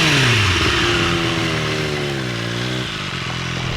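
A Triumph Street Triple RS with a 765cc triple engine, revving hard on the road, loud and close, pitch rising steadily and then dipping briefly as it pulls away.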